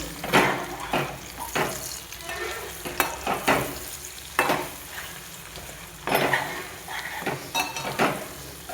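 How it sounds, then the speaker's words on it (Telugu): Egg fry with onions sizzling in a pan, a close steady frying hiss punctuated by frequent loud clinks and scrapes of a spatula against the pan, without voices. "ఇదిగోండి ఇప్పుడు చూసారా పూర్తిగా అయితే ఫ్రై అయిపోయింది"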